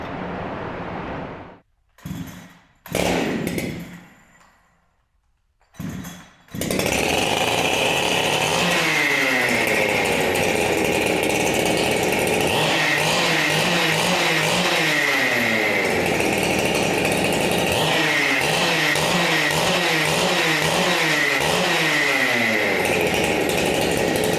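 A chainsaw with a modified exhaust and untuned carburetor sputters through a few short bursts, then roars to life and runs loud and raspy, its engine revving up and down repeatedly.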